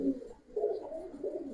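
A Giribaz pigeon, one of a pair, gives two low throaty coos in quick succession, close by and moderately loud.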